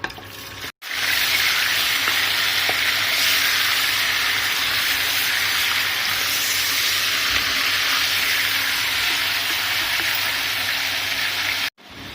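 Chicken cooks in desi ghee for a winter chicken shorba, with a continuous close sizzle and frying hiss running throughout, broken by two brief silent gaps.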